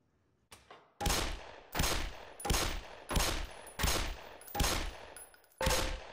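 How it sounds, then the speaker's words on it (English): Pistol shots fired at targets on a shooting range in the video game Black Mesa, seven sharp reports in a steady rhythm roughly every 0.6 seconds, each with a short ringing tail, loud and close with no voices. "Put 7 rounds in the center ring of each target."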